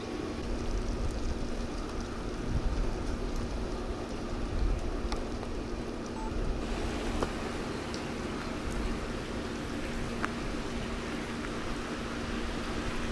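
Steady rain falls outdoors, a soft continuous hiss of drops with occasional louder patters on nearby surfaces, faint and unbroken throughout.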